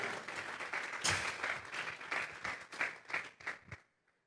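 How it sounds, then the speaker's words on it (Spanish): Church congregation claps together as an offering of praise to God, steady dense clapping that swells and then stops abruptly near the end, leaving quiet. "Vamos a regalarle ofrenda de palmas al Dios de la gloria"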